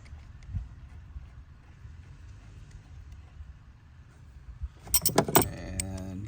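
Metal clinks and jangles as a terminal nut is tightened onto the auxiliary battery of a Chrysler Pacifica, a quick burst of close, sharp clicks after a quiet stretch of low garage hum.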